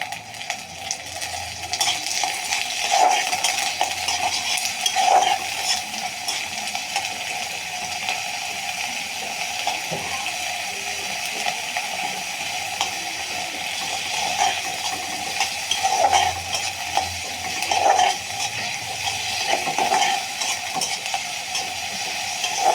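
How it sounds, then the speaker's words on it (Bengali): Washed shrimp go into a pan of cooking bottle gourd, with a continuous frying hiss and occasional utensil scrapes and knocks at intervals, close by and without speech. "আর এখানে দিয়ে দিচ্ছি চিংড়ি মাছ সুন্দর করে ধুয়ে রেখেছি।"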